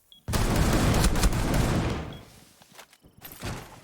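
Gunfire in the tactical shooter Rainbow Six Siege: a loud, sustained burst of rapid shots lasting about two seconds, then fading into scattered softer impacts and a few closer single cracks.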